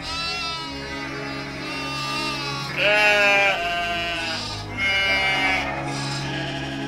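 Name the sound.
flock of sheep bleating on a hill, cartoon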